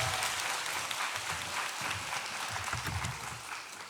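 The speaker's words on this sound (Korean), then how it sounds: "큰 박수로 맞아주세요." A church congregation at a Sunday afternoon service claps warmly to welcome the pastor, a continuous wash of applause that stays even and then eases slightly toward the end.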